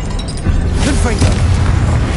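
A Confringo fire spell blasts in Hogwarts Legacy, a single booming burst with a crackling, rumbling tail, loud and close, mixed with game effects.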